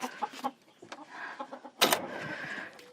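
Hens and a rooster on a farm cluck in short, irregular bursts close by, with one louder squawk partway through, and a faint voice now and then.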